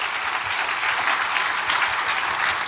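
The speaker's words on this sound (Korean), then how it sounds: "하나님께 영광의 박수입니다" A church congregation applauding during a sermon, dense continuous clapping from many hands, filling the whole short stretch.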